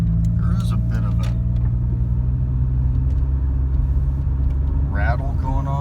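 A 1995 Toyota Camry driving around the block, its engine and road rumble a steady low drone inside the cabin, with someone talking over it; no distinct rattle stands out.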